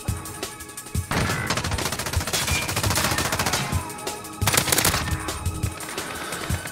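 Rapid automatic gunfire shooting through a wall in Modern Warfare 2019, close and loud, with sustained bursts and rhythmic shot patterns and a short lull between them.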